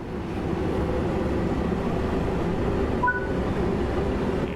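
A TfL London Underground 1972 stock train in Train Sim World 5 rolls along with a steady, continuous rumble and hum, briefly marked by a faint electronic beep, with no voices.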